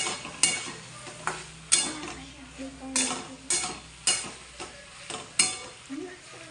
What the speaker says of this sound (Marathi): आता त्याच्यात 2 चमचे शेंगदाण्याचं कूट टाकून घेऊ आणि मिक्स करू.